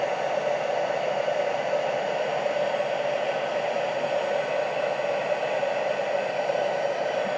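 A heat gun blows a steady, loud, unbroken rush of hot air onto shrink plastic for craft figures, holding one even hiss throughout with no talking.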